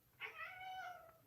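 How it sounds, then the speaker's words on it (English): Maverick, a young cat not yet fully grown, gives a single drawn-out meow at close range, clear and fairly soft against a quiet room. "I don't know if I've introduced my brother's new cat, Maverick, yet."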